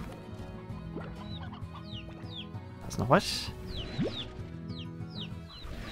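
Hens in the video game Slime Rancher cluck in short, scattered calls against a busy game soundscape, with a louder burst of game effects partway through and someone speaking German over them.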